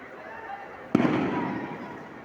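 A single sharp gunshot cracks out during a street clash between students and police in Chattogram, a loud bang echoing briefly over faint background murmur.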